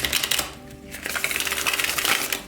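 Tarot deck being shuffled by hand, a dense, continuous riffling and flicking of cards up close, crisp and steady throughout.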